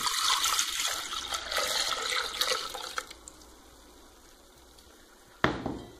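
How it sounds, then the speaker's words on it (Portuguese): Milk, one litre, poured into an automatic cooking and mixing machine with a blade, a steady close liquid rush that tapers off into quiet, then a short clunk at the end. "Vou adicionar 1 litro de leite."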